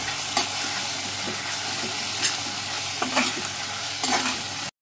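Ginger garlic paste being stirred into a sizzling Schezwan fried rice mixture in a hot pan, a constant close frying hiss with several distinct spatula scrapes and knocks spaced through it.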